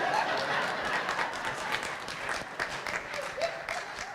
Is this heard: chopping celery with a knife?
no